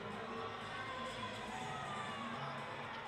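A hockey arena crowd at Grosinger Motors Arena reacts to a disallowed goal in a college game, a continuous distant roar of boos and shouting that holds steady throughout.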